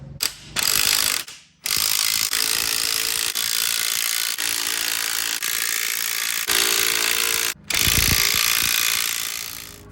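Spring compressors being ratcheted tight on a car suspension strut, a loud continuous mechanical grinding and clicking that runs almost unbroken, with a couple of short pauses, close up and with no voices.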